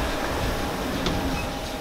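A train rumbles steadily nearby, a dense loud mechanical roar with faint rattling and a brief high squeal.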